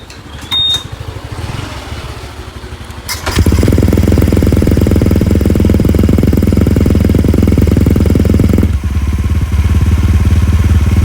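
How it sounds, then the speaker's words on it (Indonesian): A Honda Vario 125 scooter engine starts after a short beep, then runs at a loud, steady, fast-pulsing idle with repeated revving, close up, and drops slightly near the end. "mesin dinyalakan dan digas-gas itu untuk biar tidak ada udara terperangkap di dalam radiator"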